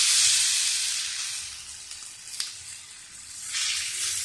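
Thalipeeth batter sizzles on a hot oiled iron tawa, a close, steady frying hiss that swells and eases, with no talking.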